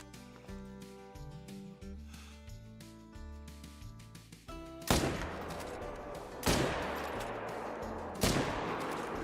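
Three loud rifle shots ring out at whitetail deer in a hunting video game, evenly spaced and each trailing off into a long echo, over quiet background ambience with no talking.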